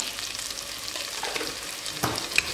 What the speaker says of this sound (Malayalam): ഇതൊന്ന് പച്ചമണം മാറുന്ന വരെ നന്നായിട്ടൊന്ന് വഴറ്റി കൊടുക്കുക